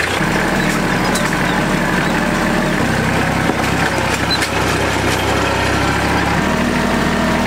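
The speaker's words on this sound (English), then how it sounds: "We do want to for sure get this tractor started up" A tractor engine idles steadily outdoors while land is being cleared for a food plot. Its low, continuous rumble shifts pitch a couple of times and carries a rattling, clattering texture on top.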